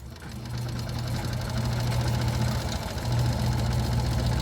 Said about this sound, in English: I will sew 1/2 inch on this side.